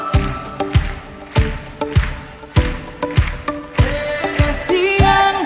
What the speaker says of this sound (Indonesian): Yang sedih tepuk tangan dong.